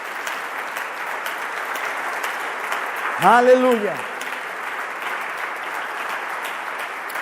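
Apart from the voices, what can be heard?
audience applause in church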